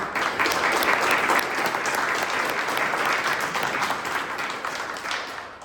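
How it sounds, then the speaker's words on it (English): Loud, sustained applause from a crowd at a township trustee public forum, steady clapping filling the whole stretch before tapering slightly at the end. "One last round of applause for all of their answers."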